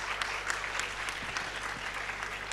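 An audience at a girls' leadership panel claps steadily throughout, a dense, fairly quiet patter of many hands with no clear hooting standing out.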